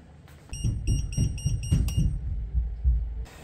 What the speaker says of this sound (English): Let's let it start beeping. Okay, we're beeping.